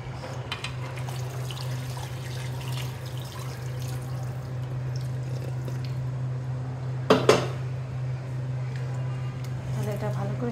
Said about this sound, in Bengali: গরম পানিটা দিয়ে দেব